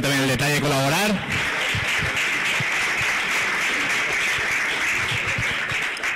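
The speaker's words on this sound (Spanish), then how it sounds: "así que un fuerte aplauso para ellos, ¿no?" A voice speaks briefly at the start, then an audience at an iDay event breaks into sustained applause, a dense crowd of clapping hands that carries on steadily to the end.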